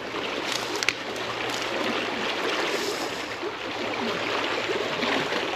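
River water flowing along a riverbank where fishermen once gathered, a steady close rushing wash that holds an even level throughout with no voices.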